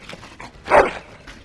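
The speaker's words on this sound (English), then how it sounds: "Bloody dog." A dog in the Dragon Age: Origins video game gives a single short whimpering yelp, fairly close and loud, over quiet game ambience.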